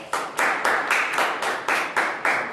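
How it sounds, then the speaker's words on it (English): An audience applauds after a presentation, a brief burst of clapping with a steady, pulsing rhythm of repeated surges, fairly close and clear with no talking over it. "why don't we give Katie another round of applause?"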